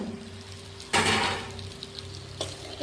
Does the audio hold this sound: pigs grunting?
no